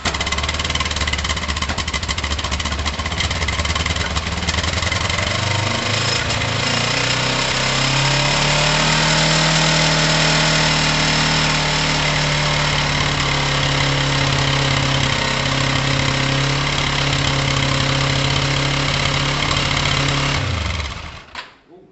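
A Kawasaki ER5 motorcycle engine idles loudly and steadily after carburetor tuning, the rumble settling into an even drone for about twenty seconds before cutting out abruptly at the end.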